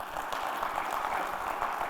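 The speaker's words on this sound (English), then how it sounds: "Please give them a clap." Audience applause for the organizers of a conference event, a steady dense patter of many hands clapping in a hall, moderately loud and continuous with no talk over it.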